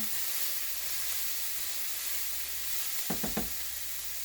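Thin-sliced frozen steak for cheesesteaks sizzles steadily in a hot pan, a soft continuous hiss with a few quick stirring scrapes near the end.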